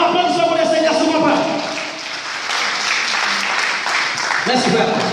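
Applause from a church congregation during a French-language evangelical service, a dense broadband clatter of clapping that swells and holds across the clip, with voices mixed in underneath.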